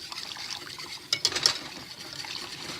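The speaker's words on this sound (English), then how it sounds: "I'm going to whisk this until slightly thickened" A whisk stirs turkey pot pie filling in a pot, giving soft liquid sloshing and swirling with a brief burst of louder clinking strokes partway through, close and alone.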